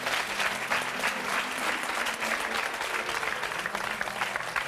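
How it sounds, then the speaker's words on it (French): A television studio audience applauds steadily and loudly for the full stretch, a dense wash of clapping with no talk over it. "Je vous demande d'applaudir plutôt, puisqu'ils sont dans le public, nos deux prochains invités, Jean et Pierre."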